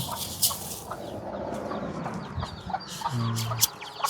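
Chickens clucking around a rural Thai home at feeding time, soft scattered clucks and a brief louder call, fairly faint amid background noise.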